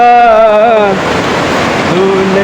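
River water rushes at the point where two streams meet, a loud, broad, steady roar. A voice speaks over it at the start and again near the end.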